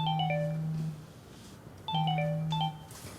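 A mobile phone rings with an incoming call from mom, two short bursts of a tonal ringtone close by, separated by a pause.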